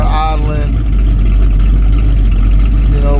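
A Ford Mustang engine idles with a loud, steady low rumble close by, while someone talks over it at the start and again at the end.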